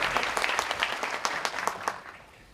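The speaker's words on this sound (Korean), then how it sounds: "박수 주시죠" Audience applause greeting an introduced guest at an education forum on the fourth industrial revolution, a short burst of scattered hand claps with crisp individual slaps, fading out near the end.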